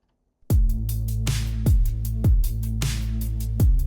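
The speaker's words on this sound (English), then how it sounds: "So together with the bass, which is sidechained, it sounds like this." A steady, pumping sidechained bass line with punchy kick drums hitting about every half second and bright hi-hat ticks in between, the bass ducking after each kick.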